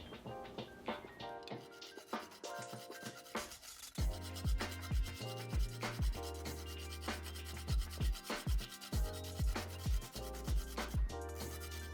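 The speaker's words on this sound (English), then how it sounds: "You will need a rasp or a grater of some kind to grate whole nutmeg." Whole nutmeg is grated on a rasp in quick rhythmic scraping strokes, close and fairly faint with no talk, over a steady tonal hum in the background that grows more pronounced partway through.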